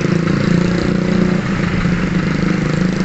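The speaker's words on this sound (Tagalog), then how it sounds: "Ingay ng motor." A motorcycle engine on a Christmas group ride from Malolos to Pampanga, Philippines, runs as a loud, steady, close drone with no break and no voices.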